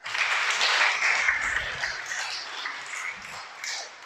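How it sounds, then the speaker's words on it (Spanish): A congregation breaks into loud, dense applause during a Spanish-language sermon, a sustained wash of clapping that swells and then tapers off. "Dale un aplauso al Creador."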